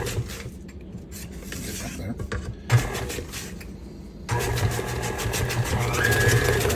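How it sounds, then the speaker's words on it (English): A spatula scrapes down the sides of a bowl of snickerdoodle cookie dough in rough rubbing strokes, followed by a steadier mechanical whir of the mixer. "We're going to scrape down our sides."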